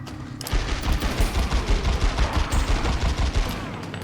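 Rapid bursts of gunfire from The X-Files: Resist or Serve, a dense run of loud shots fired in quick succession that fills the whole stretch, with no talk over it.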